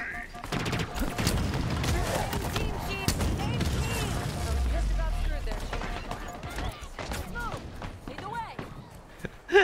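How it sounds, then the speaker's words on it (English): Rocket fire in Halo Infinite comes as loud, booming launches and blasts in a busy combat mix with running footsteps, a dense stretch of explosions that eases off toward the end. "I freed them by shooting rockets at them."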